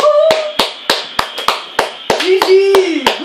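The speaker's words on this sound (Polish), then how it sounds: "Oklaski dla Kaspra!" A few people clapping for Kacper after a FIFA video game match, sharp separate claps at an uneven rhythm close by, with voices calling out between them.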